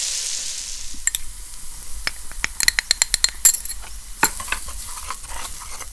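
Flour stirred into onion and garlic frying in a pan, sharp spoon clinks and scrapes in irregular bursts over a soft sizzle, with no voices.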